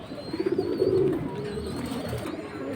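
Beji and Bagha pigeons coo softly at close range, a few low rolling coos in the first second over a quiet background, then fading to faint murmurs.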